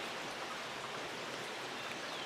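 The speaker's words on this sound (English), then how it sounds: "the rain is starting to pick up again" Steady garden rain patters on surfaces during a week of thunderstorms, a soft, uniform wash of drops heard alone at low volume.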